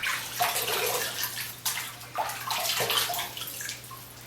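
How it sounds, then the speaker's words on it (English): Hot tap water from a bathroom sink is scooped and splashed onto a face in a few separate bursts, with running water and wet splashing sounds close by, fairly soft overall. "I'm just going to add some hot tap water that I have in my sink here into my face"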